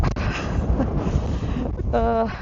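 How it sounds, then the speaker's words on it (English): Gusty autumn wind rumbles and buffets the microphone throughout in a garden, with a steady low roar outdoors and a brief tonal whine near the end. "It's windy here"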